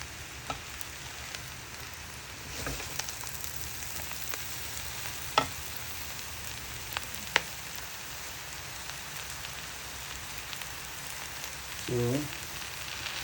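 Chopped spinach fries in a pan for an Abacha African salad, giving a steady low sizzle with faint scrapes and a few sharp taps as the leaves are turned, plus a brief stir near the end.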